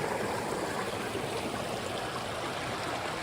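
A flowing stream at a water source along the Pacific Crest Trail, a steady close rush and babble of water throughout, with no talking.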